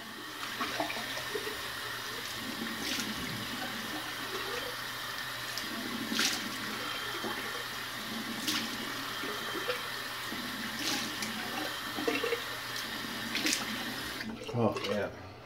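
Cold water runs steadily from a bathroom tap during a wet shave, a constant hiss and splash with a few sharper water bursts, close by, with brief talk faintly underneath.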